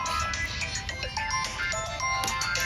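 An electronic phone ringtone plays a bright, repeating melody, loud and continuous, with a bit of background clatter and no speech.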